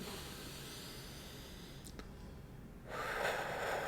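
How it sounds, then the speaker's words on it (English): Slow, deep breathing during a guided relaxation exercise, with a steady hiss of air drawn in through the nose and then a louder, breathy rush exhaled out through the mouth, close and alone. "Breathe in through the nose and out through the mouth."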